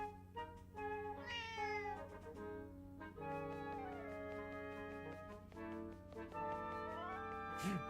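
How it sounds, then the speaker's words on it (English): A cat meows in the video game The Legend of Zelda: Echoes of Wisdom, several rising and falling meows over layered game music, close and clear. "Kitty!"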